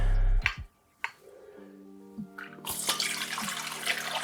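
Brine from fermented hot sauce poured off, a quiet start with a couple of clicks, then a rushing, splashing liquid pour that builds in the second half and runs to the end.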